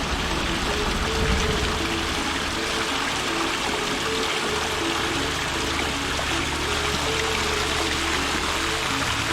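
Continuous rushing and trickling of spring water flowing steadily from the ground in a village on Lombok, loud and unbroken, with no voices.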